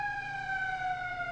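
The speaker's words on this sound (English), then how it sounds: "And the siren. Air raid." A steady, sustained air raid siren wails over an attacked town, its tone holding nearly level with a slight downward drift, loud and continuous with no voices.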